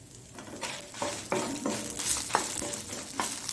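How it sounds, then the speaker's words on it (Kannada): Spices with black pepper fry and get stirred in a pan for a Mangalore-style squid roast, a steady sizzle broken by repeated scraping strokes, close and fairly loud. "ಇದು ಒಳ್ಳೆ ಘಮ ಬರುವಾಗೆ ಇದನ್ನು ಫ್ರೈ ಮಾಡಿಕೊಳ್ಬೇಕು"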